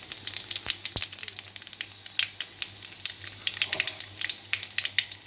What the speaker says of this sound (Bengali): এবার আমি কালো জিরে ফোড়ন দিয়ে দিলাম